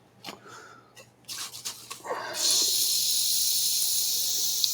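Contact cleaner sprays from an aerosol can during a metal lathe repair, starting with a few short bursts and then settling into a steady, close hiss for several seconds.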